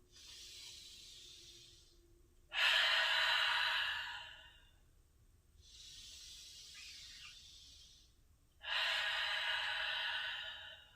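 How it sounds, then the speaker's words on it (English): Slow, deep breathing in a yoga session: two cycles of a soft, airy nasal inhale followed by a louder, longer rushing exhale through the mouth, close and alone with no talk. "take 3 deep cycles of breath. Inhaling through your nose and exhaling through the mouth"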